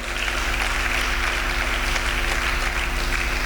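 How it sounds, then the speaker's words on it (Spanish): A church congregation applauds during a Spanish-language sermon, a dense, continuous patter of clapping over a low steady hum in the hall. "Sí, aplaude a Cristo."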